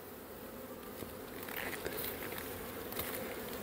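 Honey bees hum at an opened hive while colonies are prepared for winter, a soft, steady buzzing swarm with faint taps and rustles mixed in, fairly quiet throughout.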